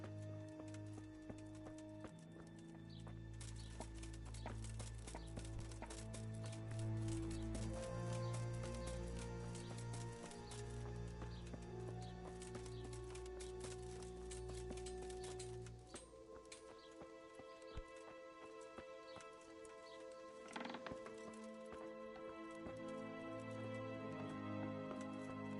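Horses in a medieval video game clip-clop along at a steady walking pace, faint and low beneath a continuous music bed, with the hoofbeats running through the whole passage.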